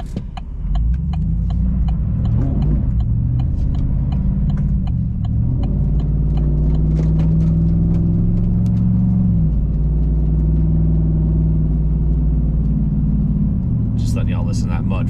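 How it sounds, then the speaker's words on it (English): A 2021 Chevrolet Silverado truck engine rumbles steadily at close range while mud patters and sprays off the turning tires, with a voice talking over it. "Letting y'all listen to that mud fling off the tires."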